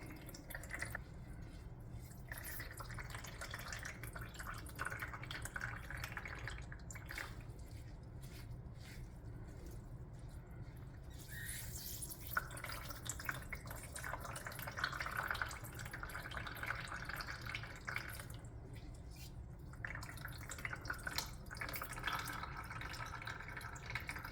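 Home-brewed chhaang, a fermented grain beverage, drips and trickles through a metal strainer in a kitchen, a steady wet patter of liquid falling alone and close for the whole stretch, with occasional squishy handling noises.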